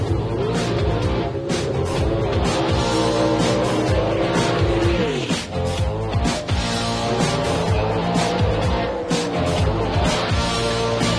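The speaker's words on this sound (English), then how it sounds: "The gorgeous Corvette Nitrous Slammer of Carl Moyer" A nitrous-fed Corvette drag racing car roars at full throttle, loud and continuous, with harmonic engine tones sweeping and shifting and brief tire-squeal textures over a dense crowd-and-track backdrop.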